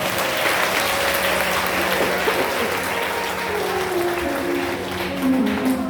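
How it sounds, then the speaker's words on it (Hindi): A crowd at a Bhagwat katha religious discourse claps loudly and continuously in dense, steady applause, with a faint musical tone running underneath. "बजाओ जोर से ताली।"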